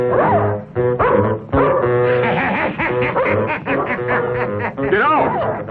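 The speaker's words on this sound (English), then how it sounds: "It's not like you can get away from the dog in any other way." A dog barks and yips excitedly in a film scene, a short bark followed by a run of whimpering yelps and yaps, loud and near, under shouting voices.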